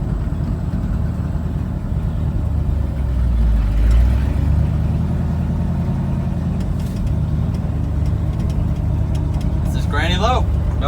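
An old project truck with a four-speed manual on the floor and a carbureted engine needing choke drives off in granny low: a steady, rumbling engine drone close by, with a brief squeaky chirp near the end.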